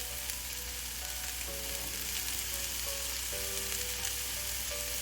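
Boneless chicken breast with a little salt sizzles and fries steadily in a hot pan, a continuous close crackle with no talking.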